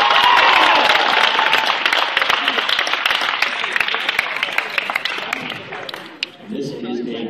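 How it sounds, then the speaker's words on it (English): An after-prom hypnosis show audience in a high school bursts into loud applause and crowd noise that tapers off over several seconds, with voices mixed in and a speaker starting to talk near the end. "Let's give them a big round of applause."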